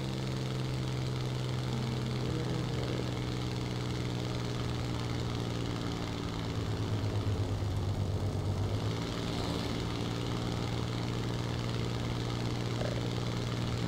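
A steady propeller aircraft engine in the video game War Thunder drones continuously, with a low hum and slight changes in pitch, fairly quiet and with no voices.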